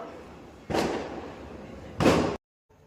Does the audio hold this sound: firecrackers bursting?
yes